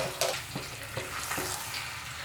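Medium-sized chicken pieces, 1.25 kilos, hitting a hot oiled pan for a curry: a close, steady frying sizzle with a few soft scraping stirs and no talk.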